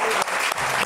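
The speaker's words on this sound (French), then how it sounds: "Et on applaudit très fort les candidats numéro 2," Dense, loud audience applause greets a rap group from Besançon on a television stage, a brief burst of continuous clapping filling the room.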